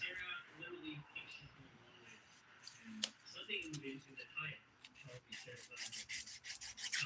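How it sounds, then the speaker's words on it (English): The 180 grit side of a thin nail file rasps across a fingernail in quick, close, fairly quiet strokes, with soft background sound running alongside. "These are my 180 grit side of my nice thin file."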